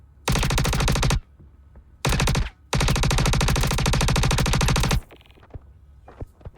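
Automatic weapon fire in the video game Star Citizen, loud and close, coming in three rapid sustained bursts with short gaps between them, then a few faint clicks and taps.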